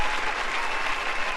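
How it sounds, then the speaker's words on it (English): A studio audience breaks into steady, dense applause, a continuous wash of many hands clapping at full volume throughout with no pauses. "Can I get one more round of applause?"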